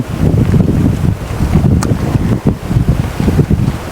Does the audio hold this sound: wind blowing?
yes